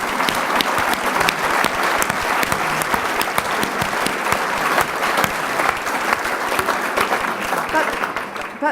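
A film festival audience at a Q&A event breaks into loud, sustained applause, dense clapping from a large crowd that carries on for several seconds before thinning slightly at the end.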